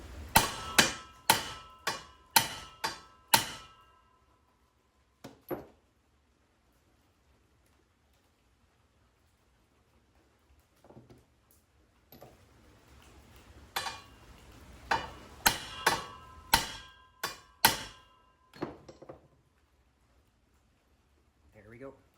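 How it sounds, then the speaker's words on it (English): Sharp metal-on-metal hammer blows drive a socket against a U-joint to press it into the drive shaft of a 1977 Chevy Camaro in a garage: two fast bursts of loud, ringing strikes separated by a quiet stretch with faint handling noise. "take your socket and hammer"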